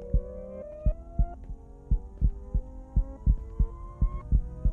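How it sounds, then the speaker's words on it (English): Heartbeat in a Minecraft horror map: a steady series of deep, pounding thumps over a low droning hum, loud and close, with no talking. "Heartbeats pounding?"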